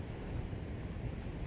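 Wind and surf at Salmon Creek beach in Sonoma County, California, a steady broadband roar with wind buffeting the microphone.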